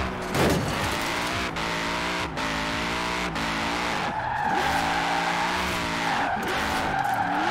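The Hoonitruck drifts in Forza Horizon 4 with loud tire squeal and skidding over a revving engine, rising and falling through repeated slides and gear changes, close and continuous with no talk.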